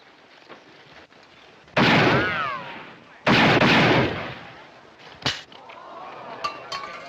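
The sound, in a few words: gunshots from a western movie shooting contest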